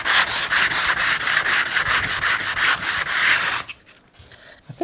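Rough rasping strokes of sandpaper worked by hand, loud and close in an even back-and-forth rhythm for several seconds before stopping abruptly into near silence with a few faint knocks.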